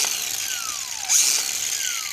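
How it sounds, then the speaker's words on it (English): A Milwaukee cutoff wheel grinder cutting through metal sides, giving a continuous high whine close by with a brief louder surge partway through, and no one speaking. "Picked up a Milwaukee cutoff wheel and grinder."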